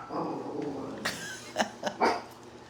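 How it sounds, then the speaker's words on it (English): A dog barks several times in short, sharp bursts at close range, with a brief whine-like sound before the barks. "Oh, you're barking."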